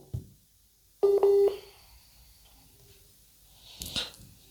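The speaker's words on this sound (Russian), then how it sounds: "Это мы сейчас друг другу, видно, дозвониться пытаемся." Telephone keypad dialing tones on an attempted call, a close, loud pair of steady beeps followed by quieter clicks and a brief rustling burst near the end.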